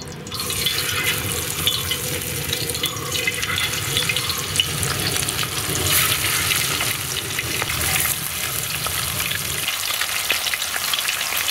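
Masala-marinated avoli fish frying in coconut oil, a loud, continuous close-up crackling sizzle that holds steady throughout with a slight drop in low rumble near the end.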